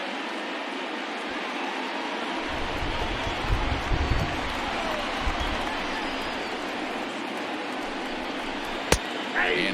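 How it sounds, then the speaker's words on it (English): Crowd noise from a baseball video game, MLB The Show 20, a steady roar of a stadium crowd into a late rally, with a few brief louder swells and a sharp crack near the end. "listen to this crowd now. They are really into this."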